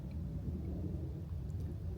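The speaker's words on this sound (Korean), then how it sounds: "점점 바람이 세게 불습니다." Strong wind blows across a campground near Seoul during a solo minimalist camping trip, a steady low rumbling roar on the microphone, fairly faint and unbroken, with no voices.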